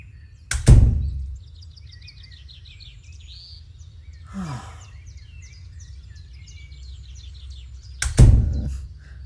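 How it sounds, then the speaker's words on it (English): Two heavy door thuds, each a sharp loud impact with a short ringing tail, the first near the start and the second about eight seconds later. Faint bird chirps and a low steady hum fill the quiet between them. "The door closes and I hear him muttering to himself as he walks away."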